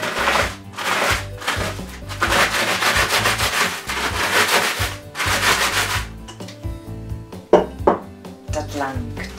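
Biscuits in a freezer bag crushed with a rolling pin, heard as repeated loud rubbing, rolling and crunching bursts, then quieter scattered taps and rustles.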